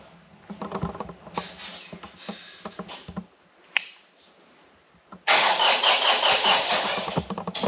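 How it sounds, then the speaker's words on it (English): A Kioti CK2610 diesel tractor cranks with rattling, clicking bursts and then fires up into a loud, steady running roar near the end. "So I think I'll just fire the tractor up."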